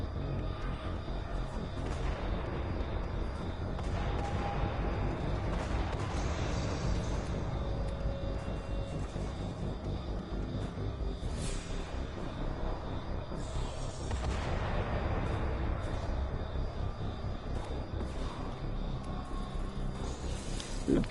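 Distant gunfire and booming combat from a firefight in the video game Mass Effect Legendary Edition, a dense, steady wash of shots and low rumbles running throughout with no speech over it.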